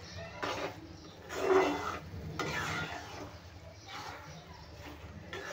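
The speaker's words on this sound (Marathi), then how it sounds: "आता हे हलवून घेऊया." A spoon stirs a vegetable and egg bhurji in a pan, producing soft scraping and sizzling sounds in rising and falling passes while someone talks over it.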